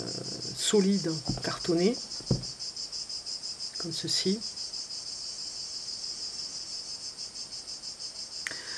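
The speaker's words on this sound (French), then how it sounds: "Nous serons accompagnés avec le chant des cigales, non des grillons, pardon, des grillons qui étaient au rendez-vous aujourd'hui pour la vidéo" Crickets chirp outdoors in a loud, continuous high trill through the whole stretch while someone talks close by in short bursts at the start and once more midway.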